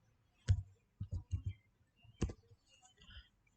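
Someone types on a computer keyboard, entering a web address in a new browser tab: a short burst of close, dry key clicks, with one click, then a quick cluster of three, a pause and another cluster, followed by softer taps.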